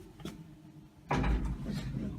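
Sliding door of an OTIS lift closing: a faint bump early on, then a louder low rumbling thud as the panels come together, with lingering mechanical noise afterward and no speech.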